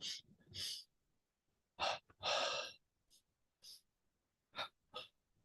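Forceful double-inhale breathing during a yoga-style exercise routine, coming in sharp, audible bursts with short pauses between them, close and fairly quiet.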